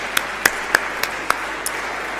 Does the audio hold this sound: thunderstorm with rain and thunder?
no